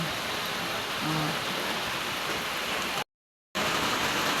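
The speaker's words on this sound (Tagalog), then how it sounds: "Gaulan guys. Ulan nga kahaponon." Steady afternoon rain falls in a dense, even hiss that fills the whole clip, briefly cutting out for half a second before resuming at the same level.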